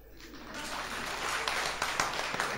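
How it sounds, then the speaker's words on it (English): Audience applause at a Shakespeare lecture in Beijing, clapping that swells in from quiet into a dense, steady patter with a few sharper claps near the end. "applaud me"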